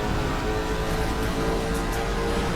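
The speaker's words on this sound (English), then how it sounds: "Is this the same engine sound that the Jesko has?" Racing-game car engine from Asphalt 8, a hypercar compared to a Koenigsegg Jesko, droning steadily and loudly throughout with a constant high-revving whine and no breaks.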